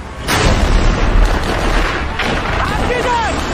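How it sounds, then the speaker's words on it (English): Heavy artillery fire from an M1A2 Abrams tank's engagement erupts in a loud, close blast with a sharp onset, followed by a rumbling, reverberant roar that fills the clip while voices shout in the background. "Artillery! Artillery weapons!"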